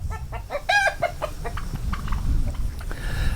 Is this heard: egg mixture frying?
no